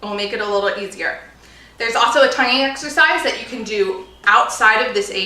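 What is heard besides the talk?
No everyday noise stands out behind the speech.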